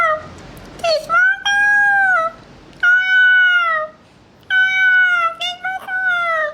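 A cat meows close and loud in a series of long, drawn-out, rising and falling calls, with short gaps between them.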